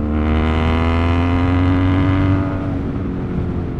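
A Benelli car running with its catalytic converter removed, the engine holding a loud, steady, throaty drone that rises and roughens slightly in pitch as it revs, close by with no one talking.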